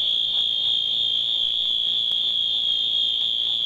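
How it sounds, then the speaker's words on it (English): Mid-to-late 1990s Wheelock fire alarm horns sound a loud, continuous, high-pitched electronic tone that holds steady without a break, piercing and close. "Suddenly strobes are flashing and loud audible horns are sounding."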